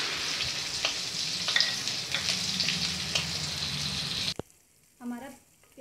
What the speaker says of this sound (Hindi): सबसे पहले मिलाते हैं चॉप्ड ऑनियन, इसको सुनहरा होने तक फ्राई करते हैं।